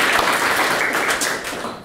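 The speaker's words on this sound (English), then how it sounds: "I think that deserves a round of applause." An audience at a technical talk on Linux kernel memory models applauds, a dense, even burst of clapping from many hands, fairly close and short.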